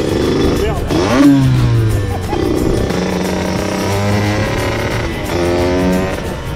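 A Suzuki SV 650 S motorcycle revs and accelerates loudly on a race track, engine pitch rising and falling in sweeps, with a person talking over much of it.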